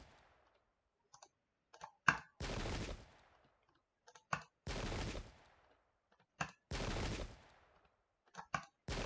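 Musket volleys in the Pike and Shot video game, with three long roaring bursts of massed gunfire separated by quiet gaps and sharp single clicks around them.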